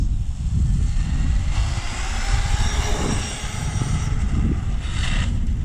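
A loud, continuous mechanical whine and rattle of a Traxxas X-Maxx RC truck's drivetrain with stripped gears, with grinding that rises and falls as the motor revs.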